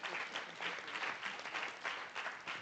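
Brief, fairly faint applause from an arbitration conference audience honoring a retired judge, a short burst of clapping in gentle waves lasting under three seconds.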